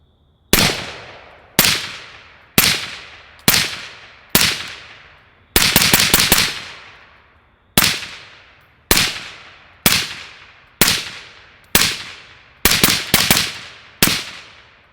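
A BCM 14.5 rifle fitted with an Anechoic suppressor fires M193 ammunition at night, giving a steady string of loud, sharp reports with brief tails, some shots fired in quick doubles and bursts, and no talking.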